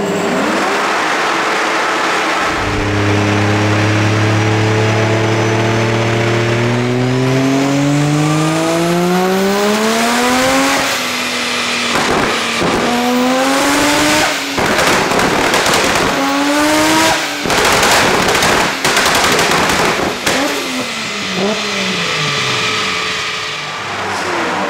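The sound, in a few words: BMW E46 2JZ race car with antilag and tyre noise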